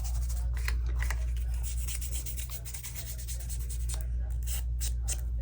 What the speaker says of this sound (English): Just fold it in half like that because we're just making hinges.